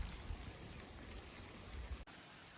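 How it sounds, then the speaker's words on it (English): Steady heavy rain pours down, a dense continuous wash of patter and splashing with no voices, briefly dipping near the end. "it's raining like crazy now"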